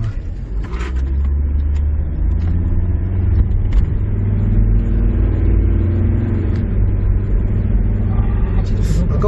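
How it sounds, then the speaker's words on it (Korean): A 2003 SsangYong Rexton SUV accelerates hard, with a rising engine drone and road rumble heard from inside the cabin while people talk over it. "순간 가속 저까지 한번 쫙 걸려보십시오."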